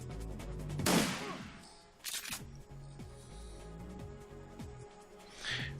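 Bursts of gunfire in the turn-based video game Shadowrun Returns: a dense crackling volley, then a shorter burst and a final faint burst, over a steady game soundtrack with low pulsing tones.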